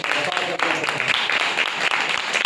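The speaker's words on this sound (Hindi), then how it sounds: "वाह वाह उस बहन पे जोरदार ताली बजाएं" A congregation at a Friday church sermon in Islamabad claps loudly and steadily, a dense burst of applause lasting the whole short moment with voices mixed in.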